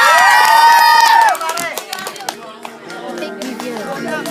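At an 18th birthday party, music and voices give way to a guest's welcome of scattered clapping and crowd cheering, moderately loud, with tonal sounds continuing beneath.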